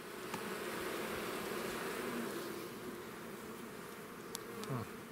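A steady, dense buzzing of many honey bees at an open hive fills the scene, with occasional louder passes of individual bees close by.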